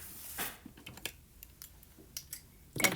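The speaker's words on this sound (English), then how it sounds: "These are not my new paper snips, and I can tell because I'm having trouble with cutting this ribbon." Paper snips cut ribbon up close, giving a handful of quiet, sharp snipping clicks at uneven intervals with a louder snip at the end.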